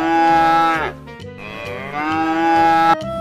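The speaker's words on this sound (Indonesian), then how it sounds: "ada induk sapi lucu teman-teman" A cow moos in two long, loud, close calls, the first cut by a brief dip before the second drawn-out low moo.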